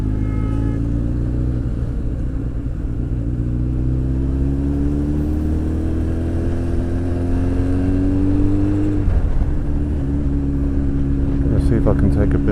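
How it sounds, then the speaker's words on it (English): Motorbike ridden through city traffic in Seoul, its engine droning and rising in pitch as it accelerates, dropping at a gear change then climbing again, with the rider talking over it. "once again we're getting caught up with some of the excess traffic"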